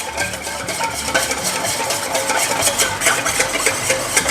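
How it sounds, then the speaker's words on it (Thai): A spoon clinks and scrapes steadily in a bowl as a sauce of oyster sauce, a half teaspoon of light soy sauce and sugar is mixed until the sugar dissolves. The stirring is continuous and close, with no voices. "จากนั้นก็ผสมให้เข้ากันนะครับ"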